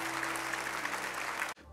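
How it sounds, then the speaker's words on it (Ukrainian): Congregation applauding in a church after a blessing: a brief, steady wash of clapping from many hands that cuts off abruptly near the end. "Під наші оплески."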